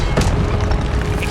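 A Confringo fire spell blasts in the Hogwarts Legacy video game, a loud, dense burst of noise that booms briefly and then rumbles on steadily.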